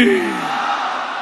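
A large crowd at Badshahi Mosque in Lahore loudly shouting the takbir chant in unison, a single sustained roar of many voices rising together and fading out over about a second.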